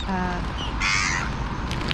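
Gulls squawk in harsh bursts, one loud call up close in the middle and fainter cries around it, over steady background noise.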